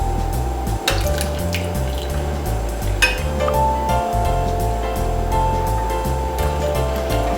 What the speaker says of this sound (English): this is the time that we're going to add the water that we've boiled